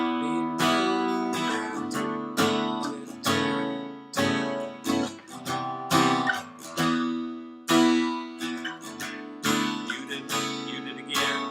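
Guitar strumming a chorus chord progression with the top string muted on most chords, a steady series of close, bright strums and chord changes with no talking.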